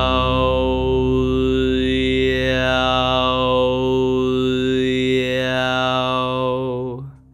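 A singer sustains one continuous tone while gliding through the circle of vowels, the vowel color sweeping smoothly back and forth twice over a steady pitch before cutting off.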